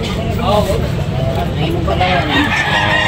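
Rooster crowing at a busy gamefowl market, harmonic calls rising over constant crowd chatter and vendor talk, with other birds and traffic noise in the background.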